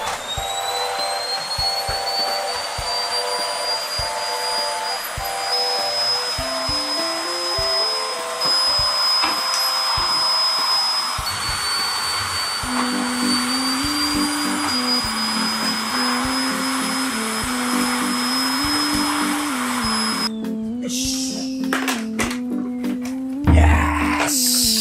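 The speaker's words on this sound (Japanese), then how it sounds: "掃除機はかけ終わったんですが" Household vacuum cleaner running at a steady high whine, its pitch shifting as it moves, with knocks and rattles and a brief clatter near the end; no talk.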